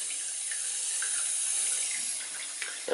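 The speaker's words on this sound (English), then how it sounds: "if you're washing your hands you'd be saving a little bit of water there because it's filling" Tap water running into a sink basin in a small tiny-house wetroom, a steady close hiss of filling water with a brief clatter at the end.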